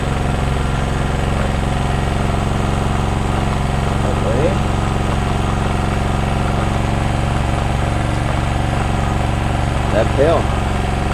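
Ozito 2000W portable generator engine running steadily with a slight vibration while powering an angle grinder, a constant close mechanical drone with brief voices breaking in over it.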